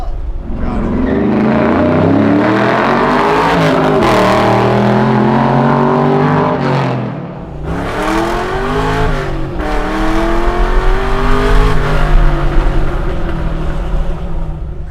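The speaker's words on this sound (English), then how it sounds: "The exhaust really does sound good." A 600hp Chevy C10 truck's engine revs and roars steadily with a deep throaty exhaust tone, pitch rising and falling through several throttle blips, with a short dip midway.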